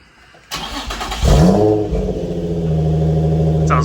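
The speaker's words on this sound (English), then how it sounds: "All right, Marshall, let's hear that first cold startup." An Infiniti G35 with a full Motordyne exhaust fires up from cold: a sharp crank, then the engine catches with a loud bark and settles into a deep, steady, rumbling fast idle up close.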